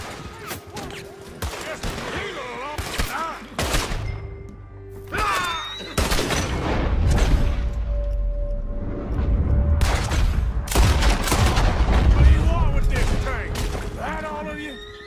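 Rapid gunfire crackles through a shootout in the Red Dead Redemption 2 video game, with bursts of overlapping shots, booms and ricochets coming in dense clusters, and voices shouting between volleys.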